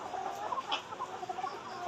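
Layer hens cluck softly in short, scattered calls at a poultry farm shed, over a steady background hum, nearby but not loud.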